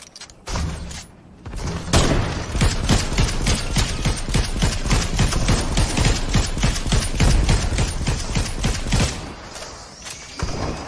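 Grenades explode in a chaotic video game fight, a dense run of sharp, loud blasts and crackling bursts stacked one after another for several seconds before cutting off.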